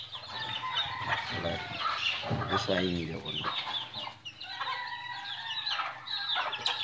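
A hen clucks in short bursts close by, mixed with people talking nearby.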